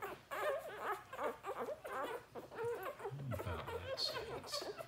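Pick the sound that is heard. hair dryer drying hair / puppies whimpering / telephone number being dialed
puppies whimpering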